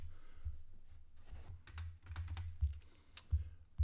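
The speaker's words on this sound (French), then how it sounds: "On va aller dans notre barre de recherche, on va écrire Basic Sub Sign" A computer keyboard clatters as someone types into a search bar in Ableton Live 12, with quick uneven bursts of close keystrokes and a few heavier thumps, and no voice.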